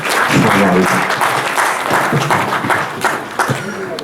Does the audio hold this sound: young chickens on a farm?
no